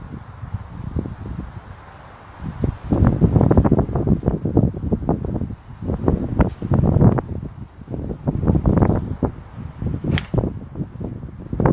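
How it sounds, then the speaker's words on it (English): Wind gusting across an outdoor golf driving range, a loud sustained rumble and buffeting against the microphone that swells and surges throughout. "Hey, we've got some wind up now as well."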